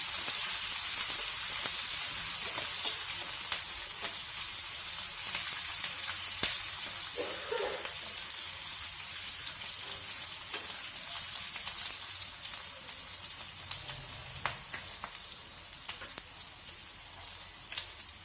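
Onions sizzle and crackle steadily in a hot pan, frying until golden for South Indian tomato chutney, a constant soft frying hiss with occasional pops and no talking.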